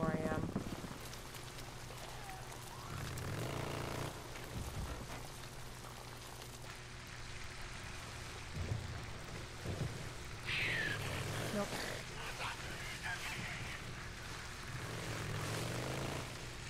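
Steady rain hisses throughout a stretch of the video game Days Gone, with an engine-like drone and a few scattered sound effects layered over it.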